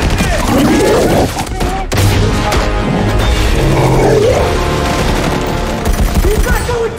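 Gunfire from a SWAT team fighting a monstrous creature, loud dense bursts across the clip with a heavy roar beneath, shouted voices mixed in.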